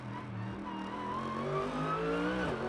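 A Mercedes GT race car at full racing speed on the Macau street circuit through the S's, its engine note loud and continuous from onboard as it climbs and shifts through the gears, with no one speaking.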